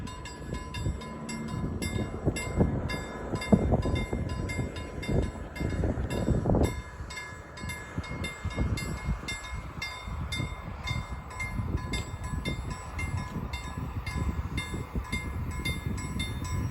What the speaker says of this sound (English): I do like trains actually, but that's a little bit too close.